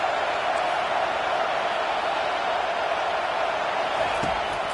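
A steady, dense roar from a stadium crowd at a Penn State versus UCLA college football game, loud and unbroken throughout without any clear peaks.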